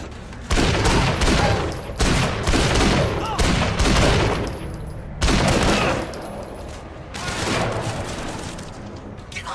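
Video game gunfire erupts in rapid volleys during a slow-motion vault-and-shoot move from cover, with several dense bursts separated by short pauses, loud and punchy.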